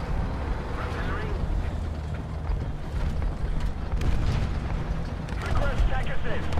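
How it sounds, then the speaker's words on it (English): Artillery fire in War Thunder rolls as a steady, dense low rumble of distant explosions, with a sustained roar and no distinct single blasts. "Artillery."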